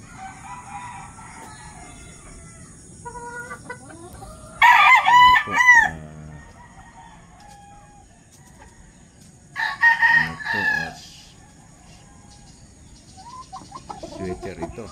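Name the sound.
Sweater gamefowl rooster crowing and clucking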